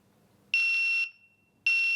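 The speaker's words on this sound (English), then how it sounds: "I'll get my beep, my par beep after that designated time" A CED7000 PRO IPSC shot timer gives its par beeps: two loud, steady electronic tones, each about half a second long and separated by a short silence. There is no talk.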